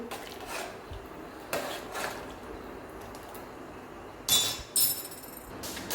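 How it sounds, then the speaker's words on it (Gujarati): A plate lid lifted off a pan of peanuts being prepared for salted peanuts, with a couple of sharp metallic clinks and a scrape standing out over a quiet kitchen background. "તો હવે આપણે ડીશ ખોલી લઈશું"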